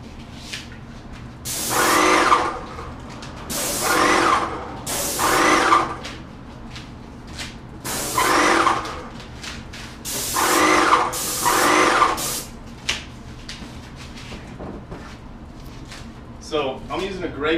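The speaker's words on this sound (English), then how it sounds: "So I'm using a Graco X5 sprayer with a 515 tip." A Graco X5 paint sprayer with a 515 tip coating cabinet doors, loud airless hissing bursts of about a second each that repeat at a steady pace, with quieter gaps between passes.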